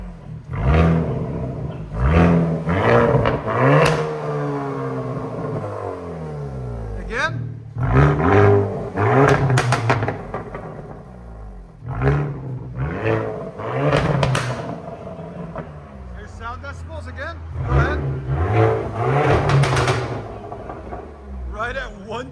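Exhaust from a Hyundai Kona N with its valve open roars through a series of loud rev bursts, punctuated by sharp pops and crackles up close, with people talking between and over the blips.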